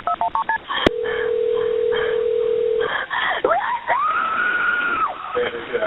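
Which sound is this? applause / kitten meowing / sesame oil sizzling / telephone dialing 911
telephone dialing 911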